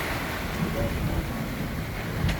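A Beneteau sailboat under sail in the Gulf, with steady wind roar and washing waves surrounding the hull continuously, loud and unbroken.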